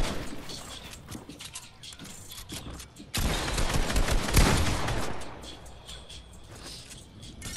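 Rapid gunfire bursts from the Fortnite video game, steady mechanical rattling that swells into a louder, denser volley midway before easing back, with no talk over it.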